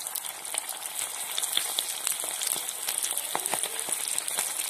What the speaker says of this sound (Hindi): अब मैं और सारे तल लेती हूँ।